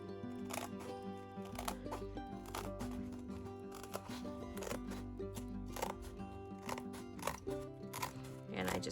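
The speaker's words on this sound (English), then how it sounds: "today we're using some old Creative Keepsakes scissors, which just keep going" Old Creative Keepsakes scissors snip down the gutter of an altered book being upcycled, a series of sharp crisp cuts at close range over a steady low hum.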